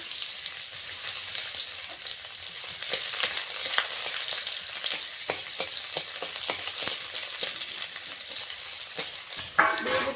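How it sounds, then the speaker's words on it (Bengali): Chopped onion fries in mustard oil for a potato filling for prawn chops, a continuous close sizzle broken by frequent scraping stirs of a spatula, with no voices. "দিয়ে দেবো একটু সর্ষের তেল পেঁয়াজ কুচিটা হালকা করে ভেজে নেবো"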